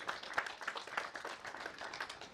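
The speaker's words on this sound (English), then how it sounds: "Let's give her a round of applause as she comes." An audience claps in welcome at a top customers meeting, a modest spatter of hands that is fairly faint and steady throughout.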